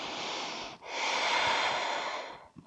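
Steady, loud breathing during a yoga balance pose, one long breath held almost continuously, with a short break and a faint soft tap near the end, no talking.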